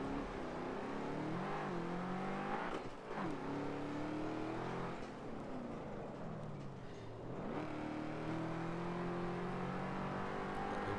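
Racing car engine in a driving video game on a Nordschleife lap, played with a Logitech G920 wheel and gear shifter; a loud, steady high-speed engine drone with shifting pitch as gears change, heard alone.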